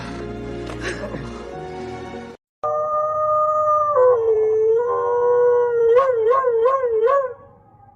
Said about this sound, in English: why did you need to howl at Mom?